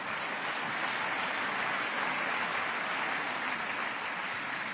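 A stand-up comedy audience applauds from a distance, a faint, even wash of clapping that holds steady through the whole clip.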